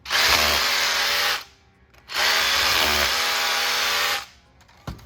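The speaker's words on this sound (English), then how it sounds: "Re-drill it out." A power drill re-drills a hole for a Red Head Trubolt wedge anchor, whirring loudly in two long bursts, each about two seconds, separated by a brief pause, with a short knock at the end.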